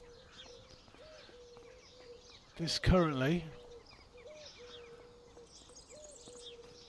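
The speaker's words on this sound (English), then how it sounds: "listen to those bird sounds, it's beautiful" Birds in the video game Farming Simulator 25 call softly in a quiet countryside setting, repeated short faint chirps and coos at a steady pace, with someone briefly speaking over them.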